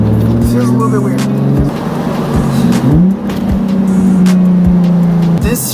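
A Nissan 350Z is driven hard from inside the cabin, its engine droning loudly and rising in pitch, with sharp drops at each gear shift. A voice speaks over the engine.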